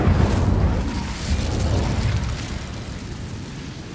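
Incendio fire spell cast in Hogwarts Legacy, a heavy fiery whoosh and rumbling burst opening loud and close, then rolling down into a lingering crackling roar.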